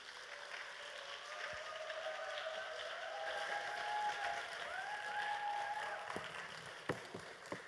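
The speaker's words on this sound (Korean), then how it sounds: "우리 박수로 환영하도록 하겠습니다" Faint applause rises from a church congregation at a university-group worship service to welcome the preacher, soft and distant beneath sustained musical tones that swell through the middle before a few sharp knocks near the end.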